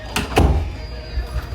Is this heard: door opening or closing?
yes